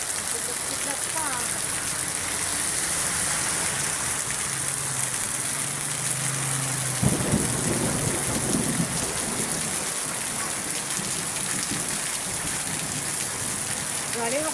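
Steady heavy rain pours through the night, a constant dense hiss with a low rumble of thunder rolling in midway, continuous and close.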